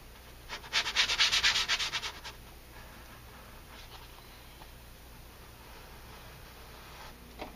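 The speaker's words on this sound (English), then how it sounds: "Be careful when sanding around the hinges." A brief burst of close, rapid back-and-forth sanding on a wooden door near the hinges, lasting under two seconds, followed by near quiet with faint scattered scrapes.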